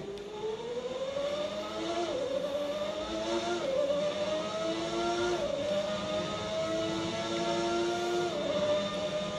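The 1991 McLaren Formula 1 car of Ayrton Senna in a racing video game, its high-pitched engine whining steadily and dipping briefly at a few gear shifts before climbing again, loud and continuous with no talk.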